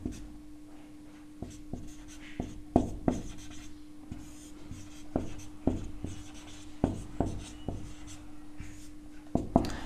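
Chalk or marker writing on a classroom board during a maths lesson on scientific notation, heard as a steady series of short scratchy strokes and taps, fairly close, with no talk over it.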